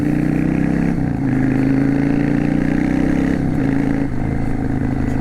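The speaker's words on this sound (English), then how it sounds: "I can't get over the tone of this bike." A Yamaha V Star 650 Classic motorcycle cruising through town, its V-twin rumbling steadily and close up, with the pitch dipping briefly at gear changes and holding a constant drone between them.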